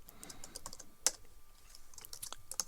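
Quick, uneven typing on a computer keyboard while a file name is entered, with sharp individual key clicks and one louder keystroke near the middle, close and fairly quiet with no talking.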